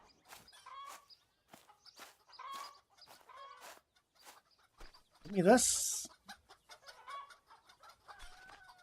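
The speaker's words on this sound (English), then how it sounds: "Listen to the damn chickens going crazy." Chickens cluck in the farming game Farmer's Life, with repeated close clucks and a loud rooster crow in the middle. A voice speaks briefly.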